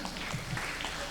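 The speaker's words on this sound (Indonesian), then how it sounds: "Tepuk tangan." Brief burst of audience clapping at a gathering about Nahdlatul Ulama regional leadership, dense and even throughout, with no talk over it.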